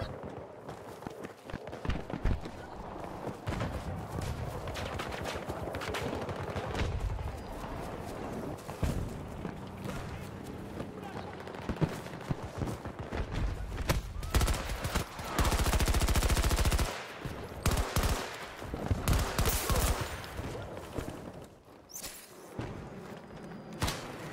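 Gunfire in the Battlefield video game, with a Vulcan cannon in play: dense, continuous bursts of shots and impacts filling a loud battle scene, with a sustained roaring stretch in the middle.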